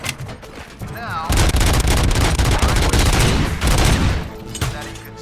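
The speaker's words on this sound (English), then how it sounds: "they just blow up with my very powerful gun" Heavy, rapid gunfire from a very powerful gun in RoboCop: Rogue City, a loud sustained barrage of booming shots over several seconds with a speaking voice over it.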